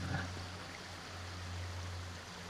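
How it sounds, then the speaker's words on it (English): A forest creek flows beside a flat spot near an old logging road, making a steady, even wash of water with a low background hum throughout. "come right down here to the creek, and this is exactly what I'm looking for. It's flat, the creek's right here"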